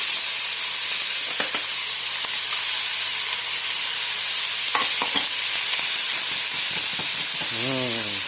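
Onions go into a pan where bacon lardons are already browning for a tartiflette, setting off a loud, constant sizzle and hiss with occasional stirring scrapes close by.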